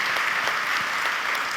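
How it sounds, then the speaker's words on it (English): Audience applause at a talk on The Adventures of Priscilla, Queen of the Desert: a steady, dense clapping from a full room, loud and continuous throughout the short stretch with no voices over it. "give him a clap."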